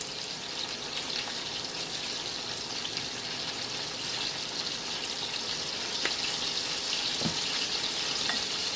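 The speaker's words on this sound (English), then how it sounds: "Just brown it for 2 or 3 minutes on each side." Chicken browning in a pan for lemon chicken, a soft, even sizzle and hiss held low and steady, with a couple of faint clicks near the end and no talking.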